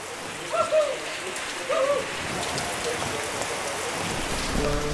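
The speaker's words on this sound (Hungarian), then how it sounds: "Jó az eső." Steady rain patters on a surface with a constant hiss, with a few faint bird calls early on and no talking.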